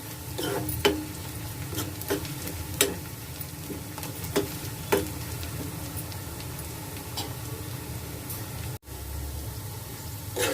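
Bitter gourd pieces frying in a pan until golden, a steady close sizzle with scattered ticks and stirring clatter, no talking.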